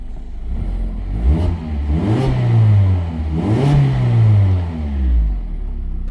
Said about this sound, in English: it's got an awesome little cold start rasp